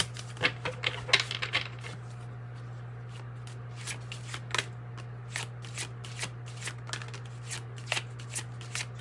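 Tarot cards are shuffled and drawn close by in a quiet room, with irregular crisp riffling flicks and soft taps scattered over a steady low hum, no talk.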